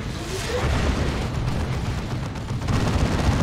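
A Leman Russ tank is destroyed in a Warhammer 40,000: Dawn of War 2 battle, and its explosion sinks into a steady, dense rumble of combat booms and gunfire.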